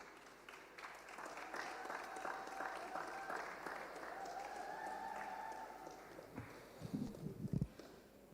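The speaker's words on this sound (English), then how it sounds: "A round of applause," A round of applause at an executive education graduation ceremony: soft, steady clapping from an audience heard at a distance, with a few louder, closer claps near the end.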